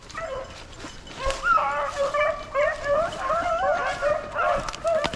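Hunting dogs bay and yip continuously in a snowy swamp while chasing swamp rabbits, several voices overlapping in a ragged, musical chorus at moderate distance.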